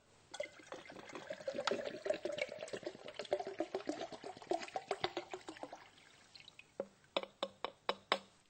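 Water poured into an alcohol mixture for a physics demonstration on density, heard as a close, continuous liquid pouring with splashy trickles, followed by a few sharp separate drips or clinks near the end.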